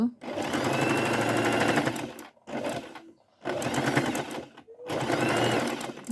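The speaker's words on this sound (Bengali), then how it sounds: "এভাবে চারপাশ দিয়ে ঘুরিয়ে ঘুরিয়ে সেলাই করে নিচ্ছি" A domestic sewing machine stitches around the edge of fabric for a semi-circular design in loud, sustained runs, stopping briefly twice before starting up again; no talk in between.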